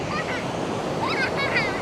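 Sea waves washing onto a beach in Vietnam, a steady broadband wash of surf with some wind noise and faint high chirpy sounds in the background.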